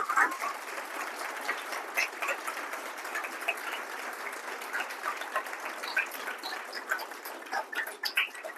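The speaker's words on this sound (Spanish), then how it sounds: "le agradecemos con un aplauso" Seminar audience at a physics talk gives sustained, even applause, a steady wash of many hands clapping at moderate distance with no talk over it.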